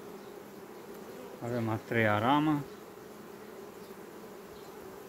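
Honey bees swarm and hum around an open hive while a colony is being reduced and its frames handled, a steady close buzzing that runs the whole time, with someone speaking briefly over it midway.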